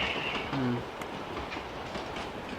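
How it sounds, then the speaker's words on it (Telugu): In the BGMI mobile battle game, a train rolls in with a steady rumbling clatter of wheels on track, close and continuous, with a brief tonal squeal or horn-like note near the start. "ఇగో ఈ ట్రైన్ వస్తుంది"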